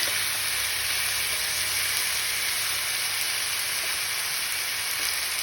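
Ground spice paste stirred into a sizzling Bengali borali fish chorchori with brinjal, giving a steady, dense frying hiss that runs evenly throughout with no clear stirring strokes standing out.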